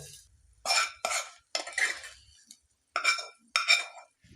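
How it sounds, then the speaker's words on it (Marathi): Hot tempering is mixed into potatoes in a pan with a spoon: six short scraping, clinking stir strokes in an uneven rhythm, close and clear, with quiet gaps between and no talking. "आता आपण ही फोडणी बटाट्यात घालून घेऊया"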